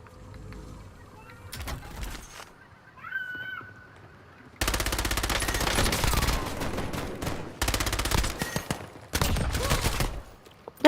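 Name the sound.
turret firing in Call of Duty Warzone video game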